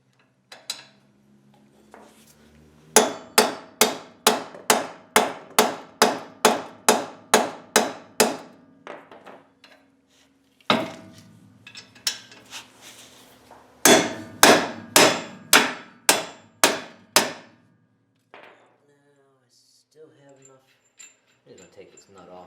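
Hammer striking a Jeep JK axle to free a ball joint, ringing metallic blows in two long rapid runs of about a dozen hits each with a pause between, loud and close, along with a few scattered taps and some talking.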